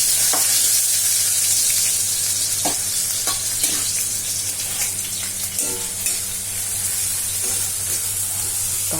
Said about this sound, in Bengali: এবার কাঁঠাল হচ্ছে রান্না